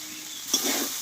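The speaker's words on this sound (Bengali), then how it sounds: "দিয়ে একটু আবারও আমি কষিয়ে নেব" Ground cumin, coriander, chili and turmeric being sautéed in a pan for an okra dish give a soft sizzle, with a quick stirring scrape halfway through and no voices.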